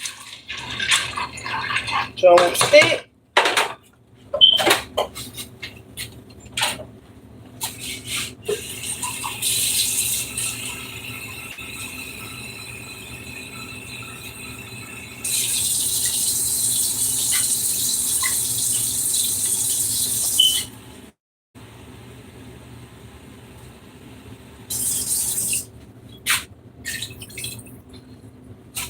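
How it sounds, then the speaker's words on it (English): Water runs from a kitchen tap during cooking, hissing in bursts that start and stop between pauses, with rattling of dishes and a voice talking over parts of it. "I need to put a little bit more water now."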